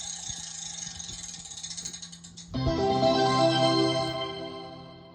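A prize wheel in a video game fair spins with a rapid ratcheting click that slows and spaces out, then a bright jingle of chimes takes over, loud and clear with no talk.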